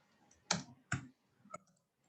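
Three sharp keystroke clicks on a computer keyboard while R code is entered, spaced unevenly over two seconds, fairly close and fading between strokes, with no talking.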